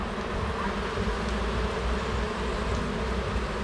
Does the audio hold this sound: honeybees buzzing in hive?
yes